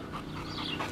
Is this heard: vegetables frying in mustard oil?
no